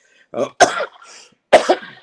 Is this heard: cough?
yes